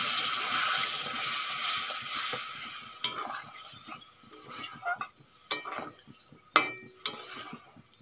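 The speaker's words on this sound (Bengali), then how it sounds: "সামান্য একটু জল দিয়ে দেব" Water poured into a pan of okra frying with spices gives a loud rushing sizzle that fades over a few seconds, followed by quieter stirring scrapes and sharp metal clinks, with no talking.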